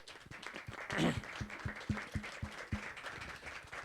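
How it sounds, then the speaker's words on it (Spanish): A small audience claps for the panelists at a tech talk on UX/UI design, a thin, scattered patter of separate hand claps heard faintly at a distance, swelling briefly near the start and then thinning out. "un primer aplauso aquí para nuestros panelistas"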